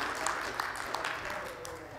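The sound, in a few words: audience applause for the church sound team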